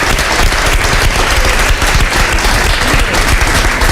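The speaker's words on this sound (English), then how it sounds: "I invite you to give him a big round of applause" An audience at a book talk with a novelist gives loud, close, continuous applause, many hands clapping in a thick, steady roar throughout.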